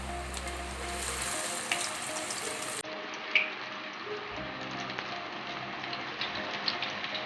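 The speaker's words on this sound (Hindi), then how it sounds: "तो ये हमारा ऑयल अच्छे से गर्म हो गया है। अब हम इसमें पकौड़े डालेंगे" Chicken garlic pakoras fry in hot oil with a loud, continuous sizzle and crackle that stays steady throughout, with a few small pops and spatters close by.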